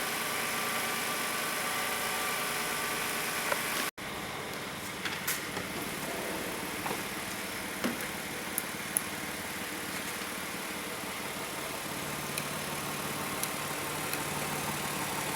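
A Kia car engine idles steadily after a charging system repair, a low constant rumble with a brief dropout and a few faint clicks, no talking.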